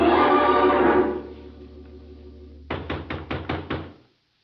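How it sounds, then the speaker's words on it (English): Knocking on the wooden door of a hut: a run of five or six quick raps after a fading low rumble, close and distinct, then silence. "There was no answer to my knock."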